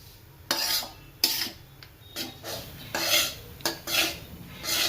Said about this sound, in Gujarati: હજી આપણે 7-8 મિનિટ આ સુખડીના લોટને શેકી નાખીએ।